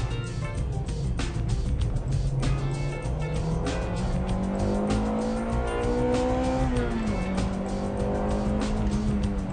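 A front-wheel-drive car laps a race circuit, its engine droning loud and close with rising and falling revs as the tires squeal through a corner.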